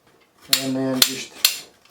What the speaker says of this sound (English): chop them up like that into small bitties